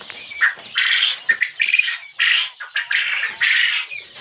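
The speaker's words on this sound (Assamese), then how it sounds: "মতা চৰাইবিলাক যে এয়া মাতি আছে" Roosters on a poultry farm calling in repeated harsh squawking bursts, fairly close and loud, overlapping one another with short gaps and no talk.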